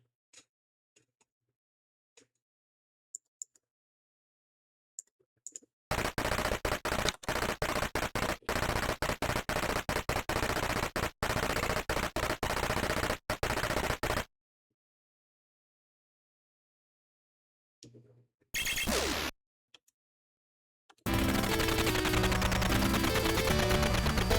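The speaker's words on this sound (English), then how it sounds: "So you have mainly machine gun and grenades." Machine gun fire from the 1980s arcade shooter Commando, loud dense bursts of rapid shots in a long run, then a short burst and another sustained stretch of firing after a pause.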